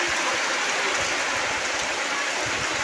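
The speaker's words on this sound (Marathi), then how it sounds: "पाऊस बघा किती आलाय आता" Heavy monsoon rain pours steadily onto fields during rice planting, a dense, loud, unbroken hiss with no voices.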